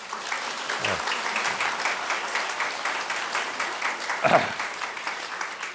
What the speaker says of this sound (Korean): 앞으로 잘 부탁한다는 박수를 좀 보내주시기 바랍니다